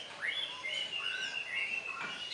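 A green leafbird (cucak hijau) sings in a series of quick, clear whistled phrases with rising and falling slurs, faint and somewhat distant over a quiet background.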